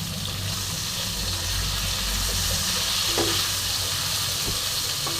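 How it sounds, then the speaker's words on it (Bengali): Bitter gourd and potatoes fry with a steady hiss and sizzle in a pan over a raised gas flame, stirred with occasional scraping clinks, close and continuous with no talking. "এবার ভালো করে নেড়ে এটাকে একটু ভালো করে ভাজা ভাজা করে নেব।"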